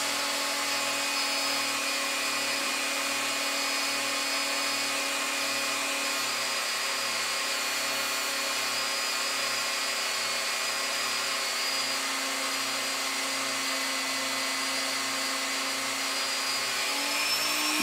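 A high-speed rotary tool spinning at about 12,000 to 13,000 RPM polishes a pinewood derby car axle, a loud, steady high-pitched whine that holds unbroken throughout.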